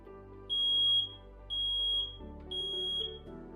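A household smoke alarm gives three loud, high-pitched electronic beeps, evenly spaced about a second apart, over a quiet low room hum.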